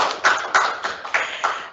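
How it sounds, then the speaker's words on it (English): A small audience applauds the speakers at a postgraduate research seminar with a few scattered, uneven claps over a soft wash of hand noise. The sound is brief and fairly close. "we'll give another round of applause to our speakers"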